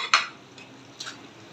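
Fried jackfruit seeds are stirred in a pan, giving a sharp metallic scrape near the start and a softer clink about a second later over a quiet background.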